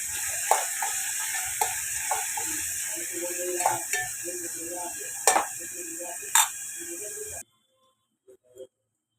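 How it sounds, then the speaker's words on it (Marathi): Finely chopped onion sautés in a pan with a steady close sizzle and occasional clinks of a spoon stirring against the metal, stopping abruptly near the end. "हे बघा मी असं व्यवस्थित परतून घेते कांदा."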